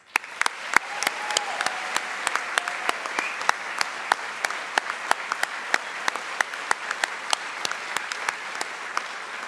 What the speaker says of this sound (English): So please join me in one final round of applause for all of our recipients.